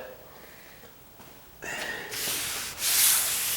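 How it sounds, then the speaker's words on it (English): Sandpaper is rubbed by hand across a wooden door, producing close, broadband scraping strokes that grow louder and rougher toward the end, with no talk. "I'll sand it. But most of these edges are fine now because I've already ran the sandpaper"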